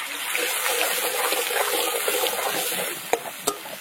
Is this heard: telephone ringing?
no